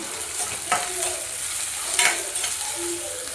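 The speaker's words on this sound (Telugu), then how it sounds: "ఆనియన్స్ ఫ్రై అయ్యాయి అందులోనే క్యాప్సికమ్ ఫ్రై చేసుకోవాలి" Onions and capsicum fry in a pan for a cabbage Manchurian, giving a loud, continuous sizzle with a few light stirring scrapes over a few seconds.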